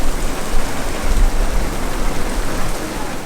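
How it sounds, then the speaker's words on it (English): Heavy rain falling outside an RV, a steady dense hiss of drops hammering the roof and surroundings, loud and close with a low rumbling undertone and no talk. "that's a good rain right there."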